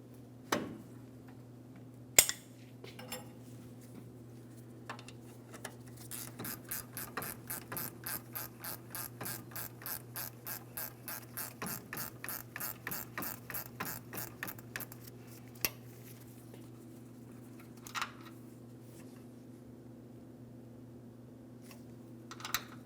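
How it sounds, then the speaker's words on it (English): A long wrench ratchets a brake mounting bolt loose on a 2007-2014 GMC Sierra 2500 HD's rear brakes: a rapid, even train of crisp clicks runs for several seconds, with a few sharp knocks before and after over a low steady hum. "I'm going to use a long wrench to help break this free"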